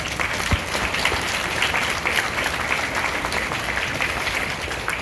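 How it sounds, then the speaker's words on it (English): An audience at a school PTA meeting applauds, a dense, steady patter of many hands clapping together that holds evenly throughout. "let's give a round of applause"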